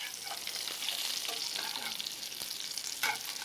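Fish frying in a hot pan gives a steady, close sizzle with crackling pops, and a brief louder burst near the end.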